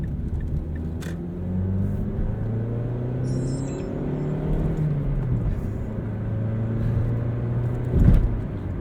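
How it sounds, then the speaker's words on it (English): A 2012 Mazda 3 Skyactiv engine revs steadily while driving, a continuous loud rumbling drone with rising and falling pitch, close and alone with no talk. "we have to rev the engine all the way up"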